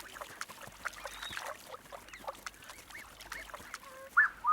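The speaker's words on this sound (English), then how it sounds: "These blue-winged geese have young goslings, which are worth a hunting attempt." Blue-winged geese call in an African highland swamp, a scatter of short honking and cackling notes of middling distance, with a sharper, louder honk near the end.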